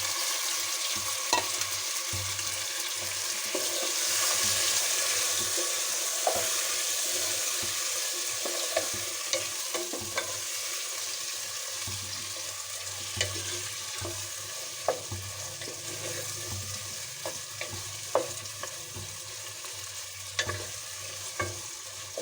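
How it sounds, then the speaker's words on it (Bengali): Country chicken meat fries in a pot with a continuous sizzle, while a spoon scrapes and clinks against the pot in scattered strokes, close up and with no voices. "আর হচ্ছে এখন এখানে আমি মাংসটা দিয়ে দিলাম।"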